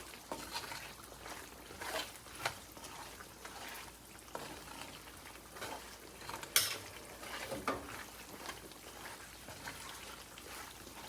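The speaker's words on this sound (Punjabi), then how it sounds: "ਹੁਣ ਇਹ ਸਾਰੀਆਂ ਚੀਜ਼ਾਂ ਨੂੰ ਆਪਾਂ ਚੰਗੀ ਤਰ੍ਹਾਂ ਮਿਕਸ ਕਰ ਦੇਣਾ" Garlic pickle ingredients mixed in a pan of hot oil, a faint steady sizzle with soft scraping strokes of a spoon and an occasional light metallic tap.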